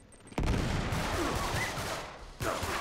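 Gunfire in the video game Uncharted 3: Drake's Deception, a loud burst of shots bursting in near the start and sustained as rattling fire, with a second sharp volley near the end, no voices.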